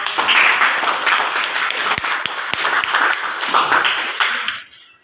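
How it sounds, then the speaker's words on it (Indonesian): A classroom full of people claps steadily for several seconds, a dense burst of applause that fades out at the end. "tepuk tangan untuk kita"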